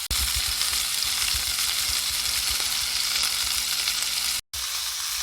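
Beef searing in a hot pan, a close, steady, dense sizzle and frying hiss that runs unbroken for several seconds, with a brief cut near the end and no voices.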